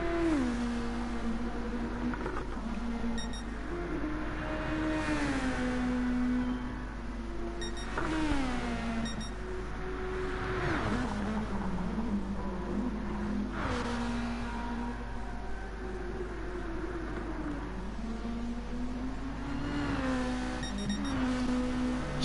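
An Audi GT race car lapping the Dragon Trail circuit in Gran Turismo, its engine note rising and dropping through repeated upshifts and downshifts, steady and close throughout.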